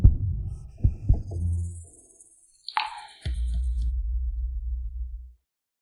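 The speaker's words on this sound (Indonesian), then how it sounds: "Aku mau dengar detak jantungmu." A heartbeat sound effect in a fantasy romance drama about a snake king: a few soft, low thumps early on, then a brief whoosh and a sustained low throbbing hum, close and muffled.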